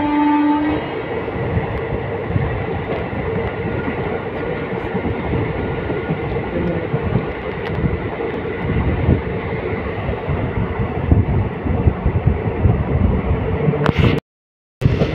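The Kanchenjunga Express rolls through rain between New Alipurduar and New Jalpaiguri, a loud continuous rumble and clatter of coaches heard from inside, with a horn-like tone early on and a brief dropout near the end.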